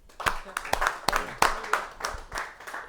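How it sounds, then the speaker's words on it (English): Scattered audience clapping at a live event honoring a woman, sharp separate claps with some chatter underneath, fairly close and moderately loud. "Can you guys clap for her?"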